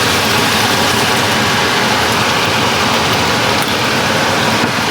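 A kitchen range-hood blower running steadily at high power while pork tenderloin is pan-fried, a loud, even broadband whoosh with a low rumble that holds constant throughout, no voices.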